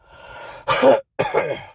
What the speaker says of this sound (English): I got a little bit of a cough